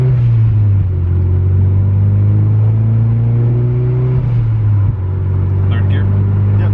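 A turbocharged Mitsubishi Evo at full throttle, its engine roaring loud and close inside the car with a rising drone and a brief shift dip before pulling hard again.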